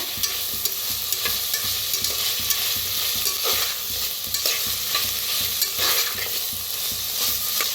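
Onion and spiced rice for Sankranti-style masala bhat roasting in a pan, with repeated scraping stirs over a constant crackling sizzle, close and fairly loud, no voices.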